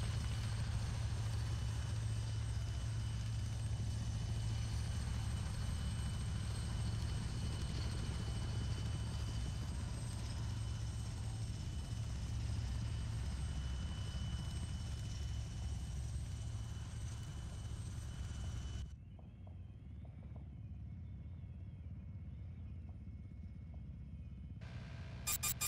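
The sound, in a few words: helicopter in a video game (NAK Ops)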